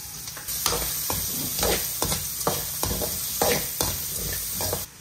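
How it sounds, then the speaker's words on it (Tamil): Green chilies, onion and garlic sautéing in a pan for Andhra-style gongura dal, a steady close sizzle under rhythmic scraping strokes of a spoon, roughly two per second, until it cuts off at the end. "இந்த பச்சை மிளகாய், வெங்காயம், பூண்டு இதெல்லாம் போட்டு வதக்குறோமா"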